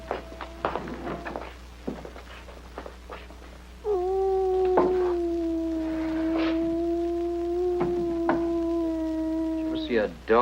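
A dog howling in an old 1959 mystery drama: one long, steady, mournful howl rising from near silence and holding for several seconds, with scattered footsteps and knocks around it.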